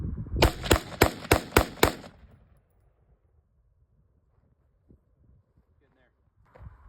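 A rifle fires six quick, evenly spaced shots at a target outdoors, sharp and loud, followed by a long stretch of near silence with faint rustling.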